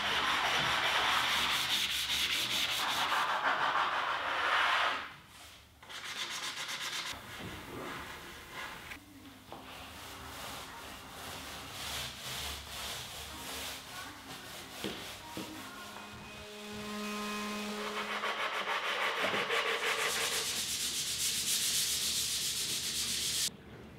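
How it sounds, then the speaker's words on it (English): Hand sanding and refining the edges of wooden parts for a Murphy wall sofa bed, continuous rasping strokes of varying pressure and pace, close and moderately loud, with no talking. "After some hours of sanding and refining the edges"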